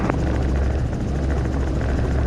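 A training helicopter departing the ramp at an airfield sends out a loud, steady rotor and engine drone with an even, rhythmic chop that fills the short stretch alone, without talk.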